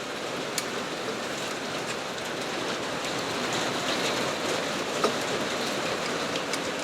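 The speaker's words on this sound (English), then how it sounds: "I don't know if you guys can hear it, but it's raining." Rain falls steadily outdoors, a dense, even hiss of drops on surfaces that carries on without a break and with no voices over it.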